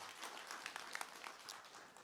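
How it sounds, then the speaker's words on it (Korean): Audience applause in a lecture hall during an online promotion talk, a steady wash of clapping from a crowd lasting a couple of seconds, moderately quiet and without speech over it. "이 정도는 박수 한번 하셔야죠."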